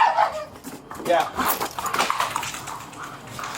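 A police dog barks and yips in short bursts during a tactical entry at a breach with a ladder, close by and mixed with officers' talk.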